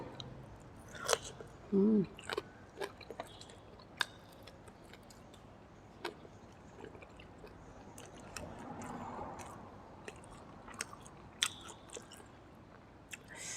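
Someone eats chicken with sticky rice, with soft wet chewing and scattered sharp clicks and crunchy bites spread over a quiet background, close to the microphone.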